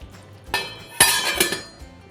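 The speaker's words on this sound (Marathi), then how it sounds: "आता मी ह्याच्यात झाकण ठेवते आणि आपण उकळा घेऊया" A lid is set down on a pot of fish curry, giving a few sharp metallic clinks and clatters close by, with a soft knock first and two brighter clanks after.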